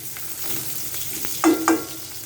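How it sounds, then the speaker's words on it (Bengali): Chopped onion frying in regular white oil in a pan on the stove, a continuous close sizzle with a couple of louder clinks or stirring knocks near the end. "এখানে আমি চুলায় রেগুলার সাদা তেল দিয়ে দিচ্ছি কিছুটা পেঁয়াজ কুচি।"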